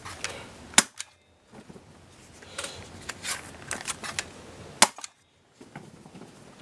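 Umarex Rekt OpSix CO2-powered Nerf pistol firing during a stress test: two sharp, loud cracks about four seconds apart, with quieter mechanical clicks and handling noise between them.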